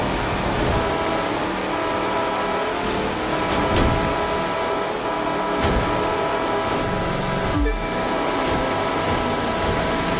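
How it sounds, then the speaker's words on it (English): Power boat engine in The Crew 2 during a Hot Shots Summit event, a steady loud drone with water wash running throughout, broken by a few brief bursts, with no voices. "listen to the engine"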